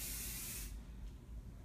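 A single quick burst of skin care mist from a spray bottle, a bright close hiss lasting under a second, followed by quiet room tone.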